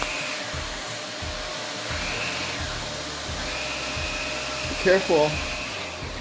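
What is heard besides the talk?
vacuum cleaner running on the floor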